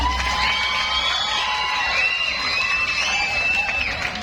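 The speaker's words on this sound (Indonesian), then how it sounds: "Tepuk tangan umum." A crowd cheers, whoops and whistles steadily throughout at a Balinese drama gong comedy show in Gianyar, with a loud, continuous wash of voices and no clear speech.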